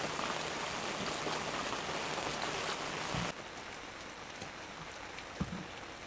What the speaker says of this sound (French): Là maintenant, ça pleut.